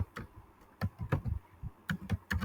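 Keystrokes on a computer keyboard while a formula is typed into a Qlik Sense dashboard, a quick irregular run of close, crisp clicks in small bursts with brief pauses, no talking.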